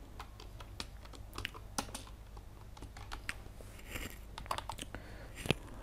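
A channel name being typed on a computer keyboard: quiet, irregular clicks of individual keystrokes in quick bursts, close and clear against a faint background hum, with no speech.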